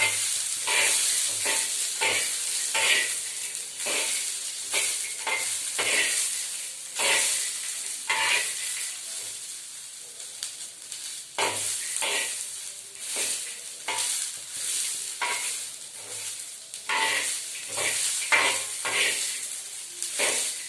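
Lentils fried in a pan crackle and sizzle while being stirred, producing rhythmic bursts of scraping and hissing at a moderate level, with no voices present.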